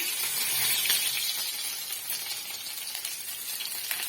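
Garlic goes into a hot pan while cooking chilli chicken, producing a bright, even sizzle that stays steady and close with no voices.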